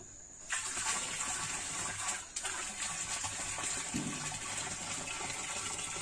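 Desi cow urine being poured into water while making jivamrut, a steady broadband gush of liquid running for several seconds with a brief break near the middle and no talking.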